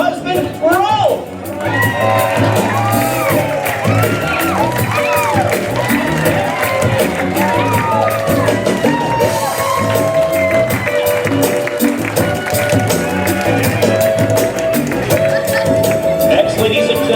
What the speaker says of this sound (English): Everyone having a nice big round of applause for Linda Kunzberg